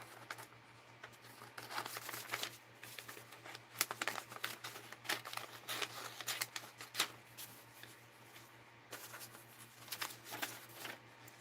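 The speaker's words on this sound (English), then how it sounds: "I'll just kind of cut out the shape." Scissors cutting out a shape from paper during a sketching session, a quiet close series of irregular crisp snips and rustles of the sheet being turned.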